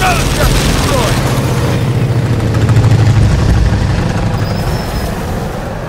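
A Condor aircraft in Gears of War 4 gives off a loud, dense engine roar mixed with rumbling booms and gunfire-like bursts that run the whole time, while voices speak over the noise.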